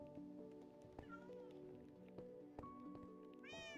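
A Minecraft cat meows several times, soft repeated mews rising and falling over a steady game background hum, with a brighter, higher meow near the end and faint speech underneath.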